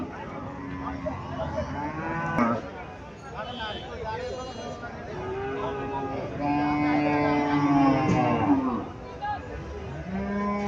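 Cows mooing at a cattle market selling thin, cheap cattle, several drawn-out moos from nearby animals overlapping, with people talking and bargaining in the background.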